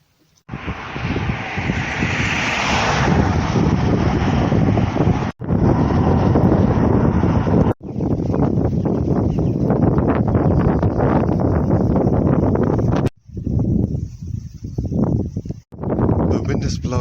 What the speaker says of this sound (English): The wind is blowing out to the coast